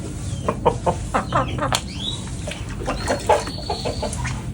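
Vietnamese import fighting rooster clucking repeatedly in short bursts, close and fairly loud, with other birds chirping faintly in the background.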